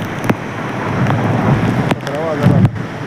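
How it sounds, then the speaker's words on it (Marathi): Strong monsoon wind at a hill station near Sateri Mahadev temple in Kolhapur roars as loud, continuous buffeting across the microphone, with sharp gusty thumps. "वारं भरपूर आहे."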